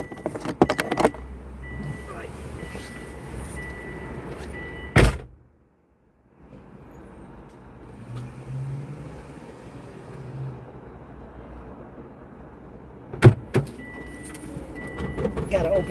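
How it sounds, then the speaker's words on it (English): A car's fuel door is opened by hand, with keys jangling, door clunks and handling noises up close over a low idling hum. Two sharp thumps punctuate the clip, and someone talks near the start. "Gotta open the gas tank first."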